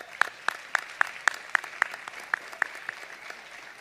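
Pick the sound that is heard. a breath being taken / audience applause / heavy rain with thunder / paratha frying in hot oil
audience applause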